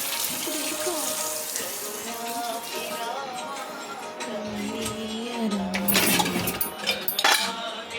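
Water runs from a tap into a container in a home kitchen, a steady splashing flow with clinks of dishes or utensils, louder and sloshier toward the end as the vessel fills.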